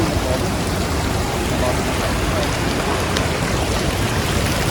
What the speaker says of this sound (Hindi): तो पानी आ रहा है हर जगह।